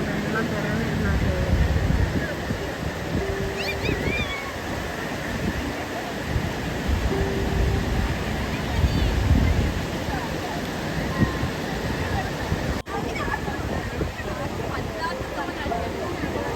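Sea waves wash steadily onto a beach at Kozhikode, a continuous broad rushing surge, with people talking over the surf throughout.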